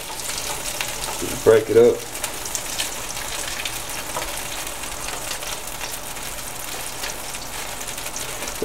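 Two sticks of butter crackle and sizzle steadily in a hot pan, with a few brief words and a clatter early on.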